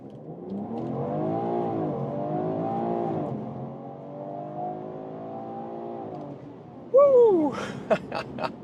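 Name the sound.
BMW Alpina B3 GT six-cylinder launch control acceleration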